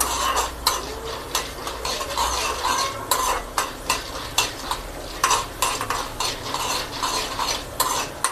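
A spoon scrapes and stirs lentils roasting in oil in a pan with a steady sizzle underneath, metal clinks repeating every second or so, close by and with no talking.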